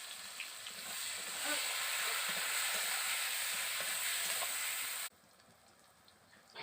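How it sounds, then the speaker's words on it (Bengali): Chopped onions fry in a hot pan for a chicken kosha curry, giving a steady, hissing sizzle that runs evenly before abruptly dropping to a much quieter simmer near the end. "এবার দিয়ে দেব কেটে রাখা পেঁয়াজগুলো পেঁয়াজগুলো আমি ভালো করে ভেজে নেব প্রথমে"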